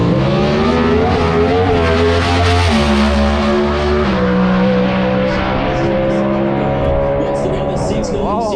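A drag racing car roars loud and close through a high-speed pass at a drag strip, its engine note rising and shifting pitch before fading, with an announcer talking over it.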